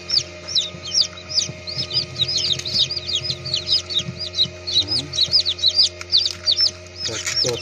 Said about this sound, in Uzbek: Mana bu yerda jo'jalar ochibdi.